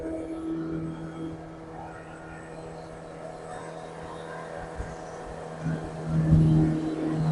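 Jet boat engine drones steadily on the water, then surges louder as the boat is thrown into a sharp spin turn near the end.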